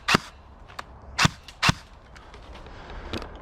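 A Specna Arms SA-H07 airsoft electric gun fitted with a tracer unit fires a few separate sharp cracks, loud and close, with short gaps between shots and lighter clicks after.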